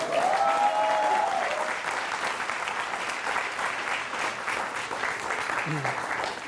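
Sustained applause from the audience at a Hindi comedy poetry show, dense and steady throughout, with a brief voice rising over it near the start and faint talk beneath.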